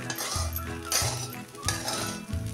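A spoon scrapes and clinks against a pan while sabudana khichdi with steamed potato is stirred, giving repeated metallic knocks and scraping strokes at a steady, close, moderately loud rhythm with no talk.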